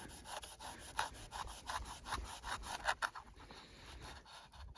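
A Teren Barracuda knife with an N690 steel blade saws through 25 mm thick rope in quiet, rhythmic rubbing strokes, with each pass a faint fibrous rasp close up.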